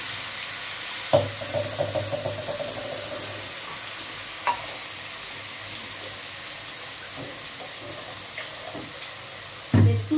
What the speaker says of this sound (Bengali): কড়াইতে আমি তেল দিয়েছি, তেল দিয়ে এই সর্ষে শাক বাটাটা দিয়ে দেব।